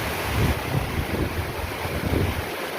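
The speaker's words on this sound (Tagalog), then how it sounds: "Grabe lakas ng hangin." Strong wind buffeting the microphone in low, rumbling gusts, with a roar that rises and falls throughout and no talking.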